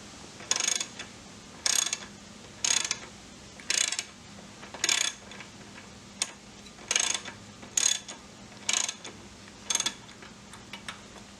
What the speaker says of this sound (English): I'll grab a wrench and tighten it all the way.